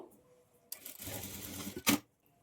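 A sewing machine stitches a blouse lining in one short run of a little over a second, starting abruptly after a quiet pause and ending with a sharp clack, close and moderately loud.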